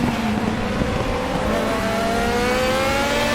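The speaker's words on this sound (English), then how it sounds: "And missed gear shifts, there we go." A Group 5 Zakspeed Capri race car at Zolder in RaceRoom Racing, its engine droning loud and steady with rising pitch sweeps as gears change, close and continuous with no talk.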